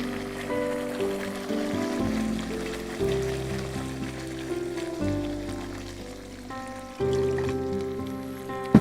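Water streams and trickles into a pot of curry gravy in a continuous gentle pour, heard faintly beneath background music.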